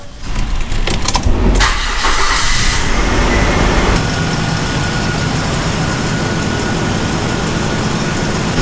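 A car engine cranks and catches with a short burst of revving, then settles into a steady, loud idle hum with the AC compressor running that continues to the end.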